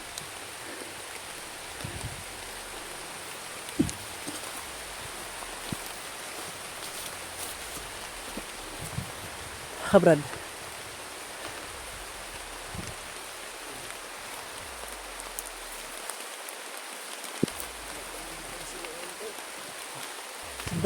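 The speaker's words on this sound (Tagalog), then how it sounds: "Umuulan na." Soft, constant patter of rain fills the background while someone speaks briefly and a few small knocks and rustles occur.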